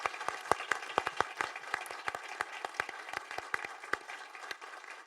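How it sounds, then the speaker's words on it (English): A small audience at an evening talk on innovation gives a round of applause, sparse individual claps standing out sharply against a quiet room, moderately close and fading slightly toward the end. "Can we offer a round of applause and thanks to the piece"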